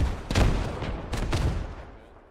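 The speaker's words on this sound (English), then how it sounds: "Running through grad fire!" Grad rocket artillery fire in the video game Squad: two or three heavy, booming blasts in quick succession, each trailed by a rolling low rumble that slowly fades.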